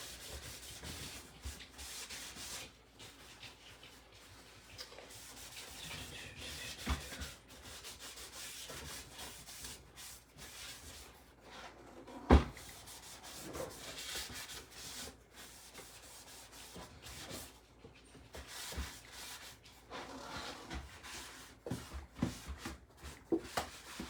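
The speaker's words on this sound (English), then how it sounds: "Get all my sand and dust out of the inside." A wooden step stool sanded by hand on its inside surfaces, a steady scratchy rubbing that runs in short back-and-forth strokes at close range with no talk over it.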